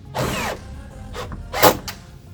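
A power tool whirs in short bursts while tightening nuts during a GMC Yukon mirror install, three or four close, loud spurts of motor noise with brief gaps.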